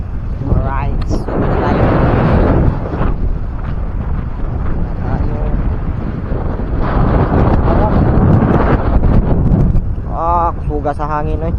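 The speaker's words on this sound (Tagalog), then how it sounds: "Hangin ng amihan. Lakas talaga." Powerful northeast monsoon wind roars and rumbles continuously against the microphone, with a few voices speaking briefly beneath the gusts.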